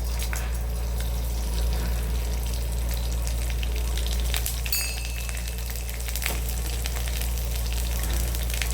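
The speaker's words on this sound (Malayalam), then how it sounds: "നമുക്ക് അല്പം അരി ഇടാം." Rice fries in a pan of hot oil after mustard seeds, a steady close sizzling hiss with a few sharp crackles and pops scattered through it.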